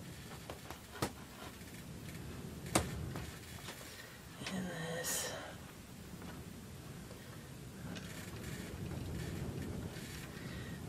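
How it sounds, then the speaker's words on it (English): Steady wind rushing and buffeting the microphone outdoors, with a few sharp clicks and taps scattered through. "If you can hear the wind, but it gets pretty windy out here."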